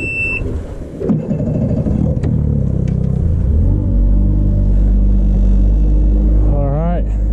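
A pickup truck at San Luis Reservoir rolls off to park, its engine rumbling low and building into a steady drone after a couple of clunks, with a beep and voices talking early on.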